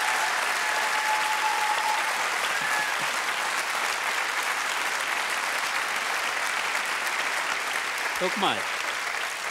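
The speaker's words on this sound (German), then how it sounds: "Können wir ruhig einen Applaus" Studio audience applause on the TV total show during a döner cooking segment, a steady, even wash of clapping throughout, with a brief spoken remark near the start and a short voice near the end.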